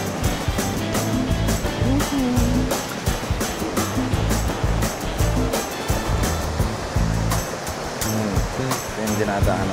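Rushing water from waterfalls along the Inararo trail on Mt. Pinatubo, a dense, steady roar that fills the whole stretch, with a voice briefly heard over it.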